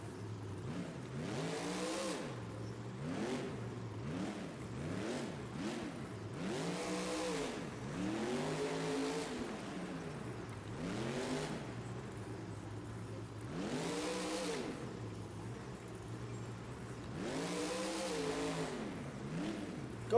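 The Iron Man monster truck's engine revs again and again at an AML World Finals truck show, each rev rising and falling in a steady, rhythmic cycle at moderate distance with no talk over it.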